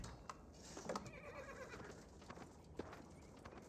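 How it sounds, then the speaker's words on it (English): Horses in the Age of Empires 4 strategy game move forward with faint clip-clop hoofbeats and a brief whinny, quiet sounds set among soft game ambience and bird calls. "These horses are to make their advance now."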